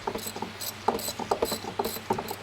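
A ratchet with a long socket turns a bolt on a rusty seized engine, giving rapid rhythmic clicking bursts, several quick ratcheting strokes in a row, close and fairly loud with no talking.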